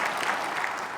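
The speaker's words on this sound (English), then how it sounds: "Applause are appropriate." A brief burst of audience applause at a lecture, dense steady clapping from a sizable crowd heard close and evenly loud.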